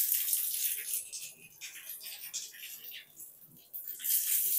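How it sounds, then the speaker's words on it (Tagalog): Water running into a drain in a bathroom of a studio apartment unit, a steady hissing splash that swells and dips, with people talking over it throughout. "Nidagan ang tubig dito."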